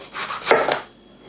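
A knife slices kare-kare ingredients on a board at home, giving a few quick, close scraping cuts in a short burst.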